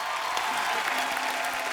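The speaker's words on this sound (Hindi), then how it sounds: "एक बार गौहर और राजीव खंडेलवाल के लिए जोरदार तालियां हो जाएं" A studio audience at a comedy show claps in a dense, steady burst of applause, close and continuous for the whole moment, with no speech over it.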